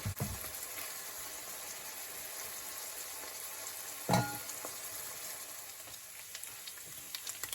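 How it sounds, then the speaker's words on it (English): Ground beef fries in a pan over high heat with a steady, even sizzle throughout, broken once by a short utensil clatter midway. "So here you have my ground beef cooking away nicely."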